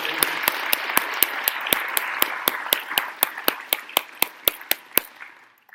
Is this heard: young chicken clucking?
no